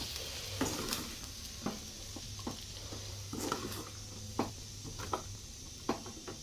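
Okra fry with coconut powder being stirred in a pan, a soft steady sizzle broken by regular scraping and tapping strokes of a spoon, close but fairly quiet, no talking.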